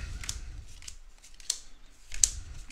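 Tarot cards being shuffled give several crisp, quick riffling bursts separated by short pauses, close and fairly quiet, with no talking.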